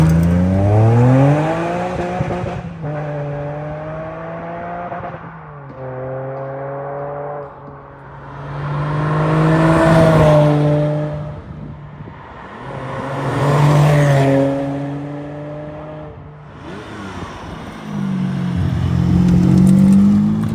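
A 2000 Ferrari 550 Maranello V12 revs through gears in repeated rising pulls, its loud engine note swelling and fading as the car accelerates and passes, heard from inside the cabin.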